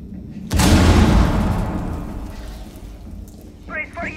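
A frag grenade goes off in Rainbow Six Siege on the Kanal map, a loud, close, broadband blast that rolls into a long decaying rumble, with a brief voice near the end.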